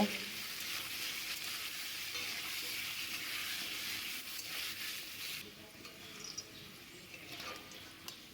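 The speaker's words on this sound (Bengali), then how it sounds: "লবণ হলুদ দিয়ে আলুগুলো লাল লাল করে ভেজে নেব।" Thick-cut cubed potatoes fry in oil with salt and turmeric, giving a steady close sizzle that drops quieter near the end, with faint scrapes of stirring.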